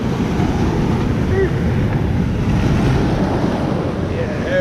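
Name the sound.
ocean waves washing over beach rocks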